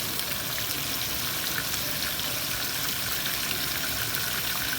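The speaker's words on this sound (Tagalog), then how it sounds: "Kumukulo na yung mantika, nilagyan ko na yung isda." Fish sizzles in boiling cooking oil, a continuous bright hiss and crackle holding steady throughout, fairly soft and with no voices.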